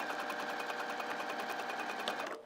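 A sewing machine stitches the back seam of a pair of lounge pants in a steady, continuous whir of rapid needle strokes, close and loud, stopping abruptly at the end.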